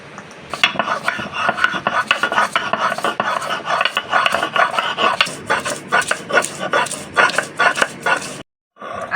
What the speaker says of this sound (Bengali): এবার আমি আদা বেটে নেব।